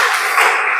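A short burst of group clapping from a class of students after singing a song in a school lesson, steady and dense for under a second with no voices.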